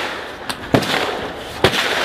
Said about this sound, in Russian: Хорош стрелять